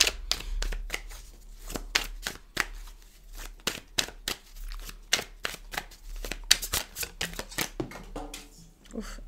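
Oracle cards are shuffled by hand in rapid, uneven bursts of crisp riffling and slapping, close and fairly quiet, with a brief flick as one card jumps out of the deck.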